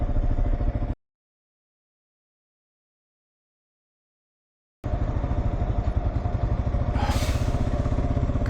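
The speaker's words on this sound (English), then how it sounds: "Couple of motorbikes here." Motorcycle engines pass along a street in Veracruz, Mexico, a steady close rumble broken by about four seconds of dead silence, then resuming with a brief higher-pitched rise near the end.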